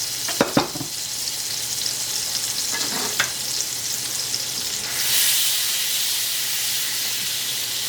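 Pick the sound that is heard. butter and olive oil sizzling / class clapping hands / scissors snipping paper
butter and olive oil sizzling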